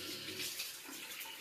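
Water runs steadily from a tap, a continuous hissing splash at moderate volume with no other sounds.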